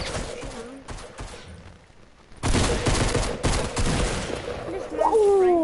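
Bursts of gunfire from a Fortnite match, a sparse spatter of shots followed by loud, sustained rapid fire that carries on to the end, with a brief whistling tone near the close.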